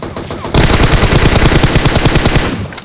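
DP-28 machine gun in PUBG opens up after a brief lull: a loud, rapid burst of evenly spaced shots rattling for about two seconds before trailing off.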